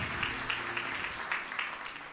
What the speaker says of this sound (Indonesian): Beri tepukan yang meriah untuk kemuliaan Raja kita